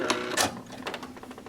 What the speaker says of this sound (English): I'm just sewing on that very tiny line.